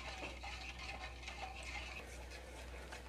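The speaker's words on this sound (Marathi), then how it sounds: "ह्या मिश्रणाला चांगली एक उकळी येईपर्यंत आपण चमच्याने असं हलवत राहायचं आहे" A spoon stirs a sugar syrup mixture in a pot on the stove for rava ladoo, giving soft continuous scraping and faint bubbling over a low steady hum.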